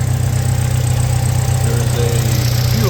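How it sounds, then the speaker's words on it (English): A Toyota Tacoma's 2.7-liter engine idles steadily, a continuous low, even hum with a constant mechanical drone close by and no voices over it. "That is a smooth running engine."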